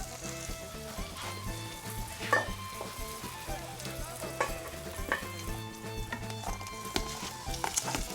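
Chopped purple onion fries and sizzles in a pot for Nigerian jollof rice, stirred continuously with scraping, clinking strokes over a steady crackle, close up with faint background music-like tones.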